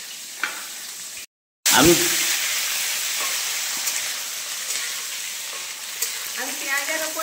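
Chopped onions hit hot oil after five-spice tempering and sizzle steadily in a pan, a loud burst at the start settling into a continuous crackling fry, with a few stirring clatters and a brief word spoken over it.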